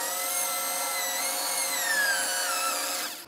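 Power drill boring a decorative hole into a rustic wooden drawer pull, a steady high-pitched whining drone held close and loud for several seconds before cutting off abruptly.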